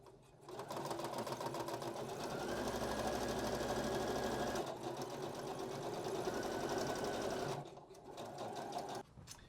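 A sewing machine runs steadily and loudly while stitching belt loops for a kimono dress, a continuous mechanical whir with a brief pause near the end before it starts up again.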